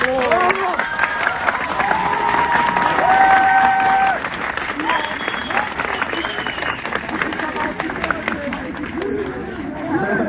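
Crowd of university students applauding and chattering at a campus protest, steady dense clapping with voices talking over it throughout.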